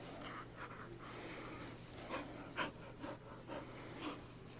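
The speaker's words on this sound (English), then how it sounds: "Listen, she's like panting." A female dog pants after playing, quick soft rhythmic breaths close by, faint and steady against a low background hum.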